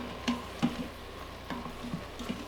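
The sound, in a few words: spices sizzling in Instant Pot on saute mode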